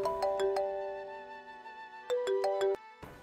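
A mobile phone ringtone for an incoming call: a bright melodic electronic tune plays one short phrase, pauses briefly, then repeats, loud and close with no talk.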